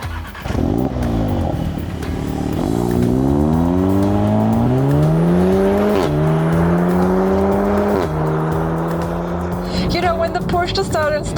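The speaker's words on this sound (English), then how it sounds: "you already hear this promising roaring of the engine" A 2015 Audi TT engine roars on a racetrack, revving up through several rising gear sweeps, loud and close from inside the car, with a steady drone and a brief lift near the end.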